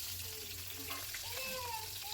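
Three tomatoes frying in a small amount of oil in a wok make a soft, steady sizzle, quiet and close, with a faint voice in the background.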